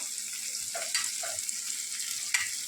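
Thin slices of bitter gourd frying in a pan give a constant bright sizzle, close by, with a few soft stirring knocks and a sharper clack near the end; no one speaks.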